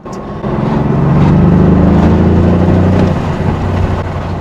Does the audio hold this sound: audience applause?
no